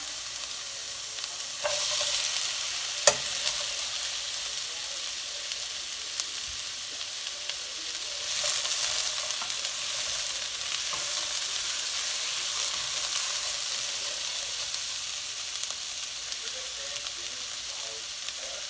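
Onion fries in a pan for a beef dish, giving a soft, steady sizzle that runs throughout with faint stirring and occasional small pops and clicks.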